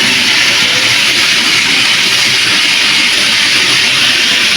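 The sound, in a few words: potatoes frying in a pan with turmeric and salt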